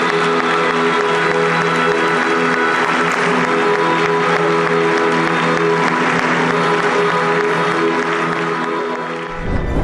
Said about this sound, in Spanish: en medio de un gran aplauso ensordecedor